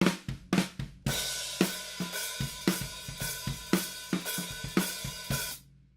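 A drum kit heard through two overhead microphones only: a steady groove of punchy kicks and snare hits under a wash of ringing cymbals, slightly roomy and distant.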